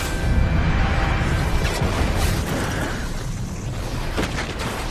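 A loud, rumbling explosion blast from a film scene roars throughout and slowly fades.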